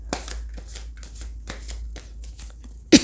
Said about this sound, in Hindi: पहले हम शफल कर देते हैं कार्ड्स थोड़े